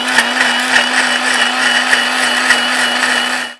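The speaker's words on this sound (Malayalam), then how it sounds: "ഇനി നമുക്ക് നന്നായിട്ട് മിക്സിയിൽ വെച്ച്" An electric mixer grinder blends a dates milkshake with ice cubes, a loud, steady motor whir with a constant hum and faint rhythmic knocks of ice against the jar, running alone before it cuts off.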